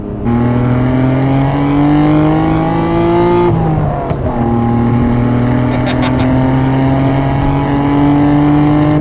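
1992 Nissan Skyline R32 GT-R with its RB26 DETT twin-turbo engine pulling hard, a loud steady droning engine note rising through the gears with a brief shift, close and continuous.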